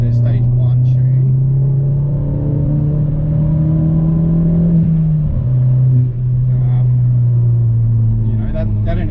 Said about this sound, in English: Obviously this exhaust sounds incredible.